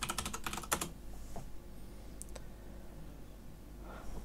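A terminal command being typed on a computer keyboard during a Kali Purple install in VirtualBox: a quick burst of close key clicks, then a few scattered taps and quieter pauses, faint and without talk.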